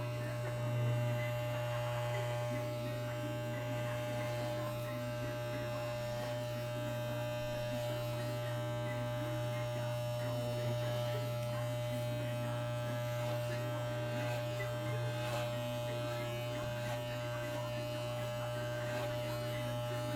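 Close up, an electric shaver trims fursuit fur with a steady, loud mains-pitched buzz that continues unbroken throughout, its tone shifting only slightly as the blade moves through the fur.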